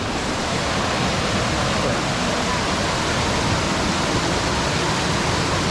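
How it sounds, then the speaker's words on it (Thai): Steady, powerful rush of a waterfall at Khao Nam Fa Resort, Muak Lek, Saraburi, Thailand, roars without pause, a dense broadband hiss close by with no clear voices. "เดินมาดูในส่วนของน้ำตกริมสุด"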